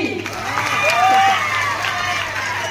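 An audience at a Sambalpuri folk stage show at a school claps and cheers as a steady crowd roar, with voices and shouts mixed in throughout.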